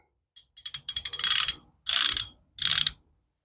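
Ratchet wrench loosening a spark plug on a Husqvarna mower that has been backfiring: a quickening run of close, sharp clicks, then two longer bursts of rapid ratcheting, loud and with no voices.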